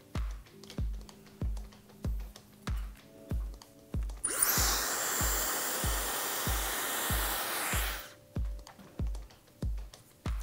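A handheld hair dryer blows steadily for about four seconds during a salon blow-dry, loud and close, with rhythmic tapping before and after it.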